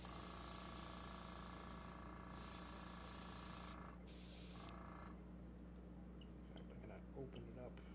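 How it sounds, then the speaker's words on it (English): An airbrush being cleaned out sprays with a steady, close hiss that cuts out briefly and resumes in bursts, followed by quieter clicks and handling noises. "cleaning out the airbrush is really the challenge here"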